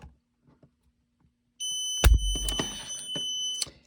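A steady high-pitched electronic beep tone from a trigger pull gauge on a Walther P1 (P38) 9mm pistol, signalling over 12 pounds, starts abruptly and holds, with a loud clunk and some rattling handling noise underneath.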